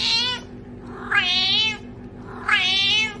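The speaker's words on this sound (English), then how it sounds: "That is the most scouse cat I've ever heard in my life." A cat meows three times in drawn-out, wavering calls spaced about a second apart, close and fairly loud, with a steady low hum underneath.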